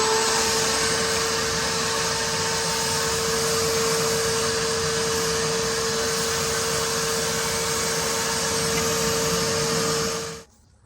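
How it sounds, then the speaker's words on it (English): Shop vacuum sucking up debris during a water heater burner repair, a loud steady roar with a whining tone held for about ten seconds before it shuts off and winds down. "Got my shop vac, and here we go. Let's clean this up."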